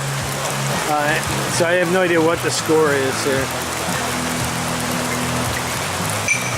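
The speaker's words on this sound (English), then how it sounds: "I can't hear what the players are saying over the rain." Steady rain pours over an outdoor pitch during a final-four tournament in Danville, a continuous broadband hiss running throughout while a nearby voice speaks over it and other voices sound in the background.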